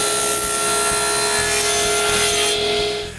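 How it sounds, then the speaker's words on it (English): A power saw with a steady high whine cuts the wooden tables of a homemade jointer to size, loud and continuous with a rapid rasping of blade through wood, tailing off slightly at the end. "The next morning, I cut both tables to their final dimensions."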